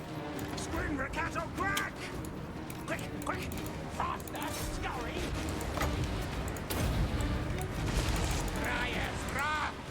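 Clan Skryre units in Total War Warhammer 2 fire in rapid, crackling volleys, mid-distance and continuous, under someone talking over the battle.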